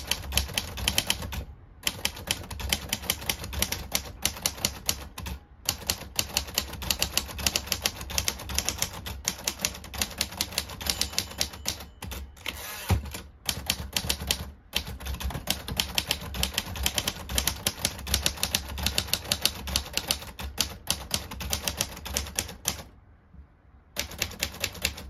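Typing on a 1941 Royal Quiet De Luxe manual typewriter: rapid, crisp key strikes in uneven bursts with brief pauses and occasional carriage sounds, close and clear with no talking.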